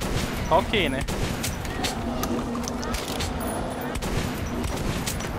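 Gunfire in the first-person shooter Metro: Last Light, a steady stream of sharp shots with louder bursts standing out, running under a player's voice talking.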